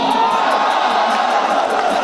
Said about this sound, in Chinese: 我们的观众朋友里面给他欢呼吧